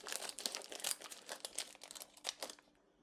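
A British biscuit packet's plastic wrapper crinkles and crackles in a run of sharp, close bursts as it is struggled open, with no talking.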